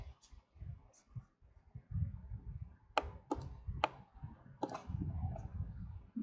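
A computer keyboard is tapped while entering a website address, giving several sharp, irregular clicks and short bursts of keystrokes, close and fairly quiet, with a low murmur in the background.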